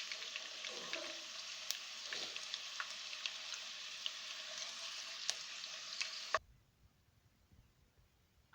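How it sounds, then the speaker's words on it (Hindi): Meat fries in hot ghee for a sweet Kashmiri beef dish, a steady close sizzle with small pops and crackles that stops abruptly near the end, leaving near silence. "एक मिनट फ्राई करने के बाद हम इन्हें निकाल लेंगे।"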